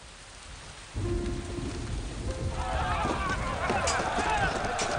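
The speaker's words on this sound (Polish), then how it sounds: "I pole bitwy zalały lodowate strugi deszczu." Steady rain begins abruptly and keeps falling heavily, thickening toward the end with low rumbling beneath the hiss.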